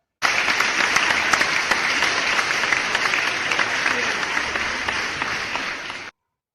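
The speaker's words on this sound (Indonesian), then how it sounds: "Tepuk tangan untuk kelompok 2" A school classroom of students claps for a winning group, a loud, close, dense burst of applause lasting about six seconds and then cutting off abruptly.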